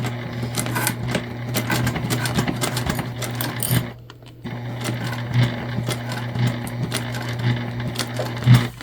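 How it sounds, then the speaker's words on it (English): A sewing machine batch sewing jelly vinyl pouches runs in fast, steady mechanical bursts, breaking off briefly near the middle before starting again, close and fairly loud with no talk. "we will go through and batch sew our other remaining bags"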